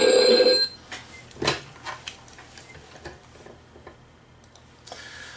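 A telephone rings in a loud, bright burst at the start and then cuts off, leaving faint ticking and clattering in a quiet room.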